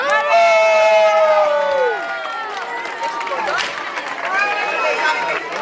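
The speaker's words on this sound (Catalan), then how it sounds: "Vinga, l'aplaudiment!" Crowd at a Sant Joan reception of the Canigó flame in El Molar, Priorat, cheering and calling out loudly, with voices, shouts and bustle sustained throughout, close and dense.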